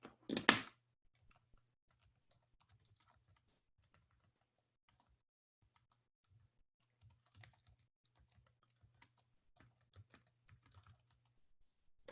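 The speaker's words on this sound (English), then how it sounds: "I'm going to type it because it's going to be better" Typing on a computer keyboard during a physiology lecture, with sparse, faint clicks and short bursts of keystrokes separated by quiet gaps after a louder clatter at the start.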